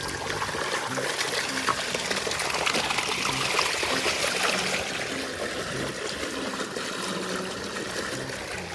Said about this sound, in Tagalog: Dito natin i-drain ang swimming pool.